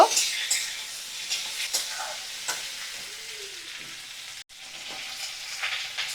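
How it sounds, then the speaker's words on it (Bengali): Kohlrabi frying in a pan over medium flame, a steady sizzle broken by stirring scrapes and clatter, close and moderately loud. "আমি ওলকপিগুলো মিডিয়াম ফ্লেমে রেখে ভাজা করে নেব"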